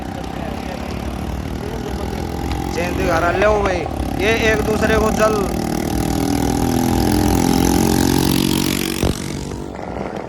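Several motorbikes in a fast-moving Kanwar procession, engines droning and revving steadily at moderate distance, under loud nearby talk and shouting.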